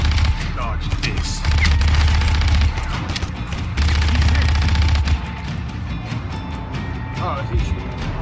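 Enemy gunfire in the open-world action game Just Cause 3, loud bursts of rapid shots with heavy low rumble that come and go over a continuous battle din, with a voice talking over it.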